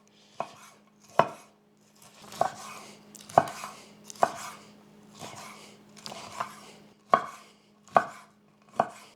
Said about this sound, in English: gonna slice up our bacon